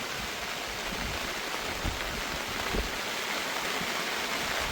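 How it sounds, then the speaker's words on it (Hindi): Heavy monsoon rain pours steadily at a lakeside campsite in Maharashtra, a constant hiss with a few faint thumps, close by and without any talking. "बहुत तेज बारिश हो रहा है।"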